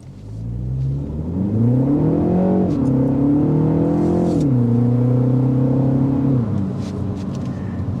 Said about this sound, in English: The exhaust note filters in.